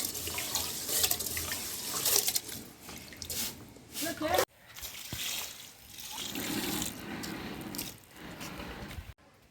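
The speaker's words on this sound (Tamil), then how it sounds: "அரிசியை நம்ம களைஞ்சி எடுத்துக்கலாம்" Rice being rinsed by hand in a pot of water while preparing coconut-milk chicken biryani for a wood-fired stove: continuous splashing and sloshing with a running tap, loud and close, with a brief pause midway.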